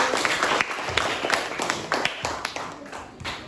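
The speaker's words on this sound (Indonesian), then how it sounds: "Beri tepuk tangan kepada kelompok 1." Students in a classroom applaud a group with dense, brisk hand-clapping that holds steady for a few seconds, nearby and moderately loud.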